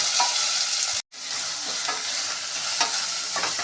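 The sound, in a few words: green chillies and sliced onions frying for brinji rice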